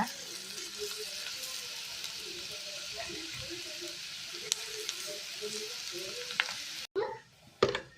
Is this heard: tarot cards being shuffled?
no